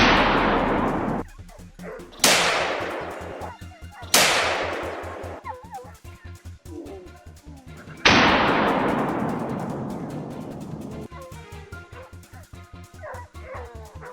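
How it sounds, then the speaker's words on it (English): Loud rifle gunshots ring out one after another, each sharp crack trailing into a long, echoing decay, aimed at wild boar in open countryside. Dogs bark and yelp between the shots. "The bullet tore through the air with deadly precision, sending the boar sliding across the red earth"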